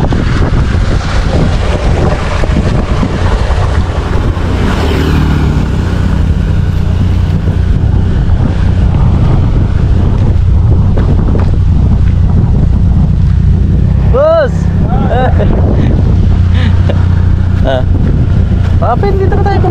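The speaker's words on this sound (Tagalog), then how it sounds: "Sarap na hangin dito." Steady wind buffets the microphone outdoors, a heavy low rumble throughout, with people talking over it and a few bird-like chirps toward the end.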